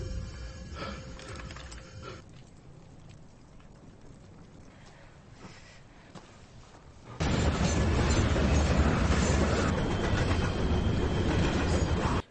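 A train in a tense film chase scene where one man flees aboard while another fires at him; a quieter rumbling passage gives way after about seven seconds to a loud, dense, sustained roar of rolling rail noise with no talk.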